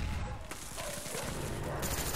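Gunshots from a first-person shooter match on a domination map, a burst of sharp cracks near the start followed by repeated rapid firing, loud and dense, with game ambience filling the gaps.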